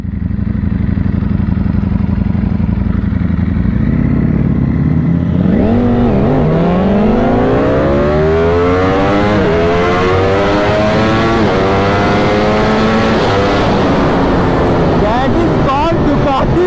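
BMW S1000RR and Ducati Panigale V4 superbikes in a drag race: a loud, close engine roar that climbs steadily in pitch through the gears, with someone talking over it.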